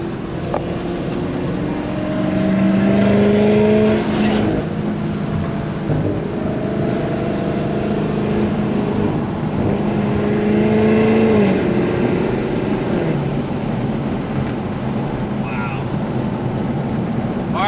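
A Dodge Demon 170 sports car engine with an aftermarket cam idles and swells into a couple of revs, a steady mechanical drone rising and falling, with faint voices under it.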